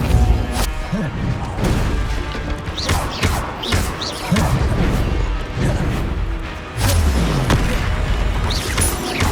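Depulso spell from the video game Hogwarts Legacy, heard as repeated heavy thuds, crashes and booms amid busy combat game audio, loud and continuous throughout.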